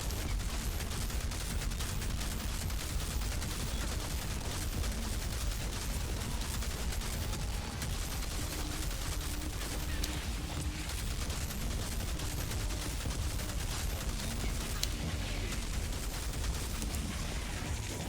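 Dense, continuous gunfire with Blight rounds in the shooter game Outriders, a steady wash of overlapping shots and impacts that never lets up, heard without speech.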